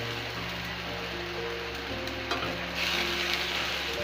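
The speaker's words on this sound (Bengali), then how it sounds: "হলুদ দিয়ে নাড়াচাড়া করব" Spices frying with turmeric sizzle steadily in a pan while being stirred, a constant bright crackle over a low hum, with occasional scraping of the spoon and the sizzle swelling louder near the end.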